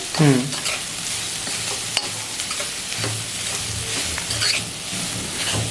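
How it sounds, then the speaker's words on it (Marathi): Jackfruit vegetable is sautéed and stirred in a pan, giving a continuous sizzle broken by spatula scrapes and clinks, close and fairly loud. "तर आता एक पाच मिनिटं हे ना परतून घ्यायची"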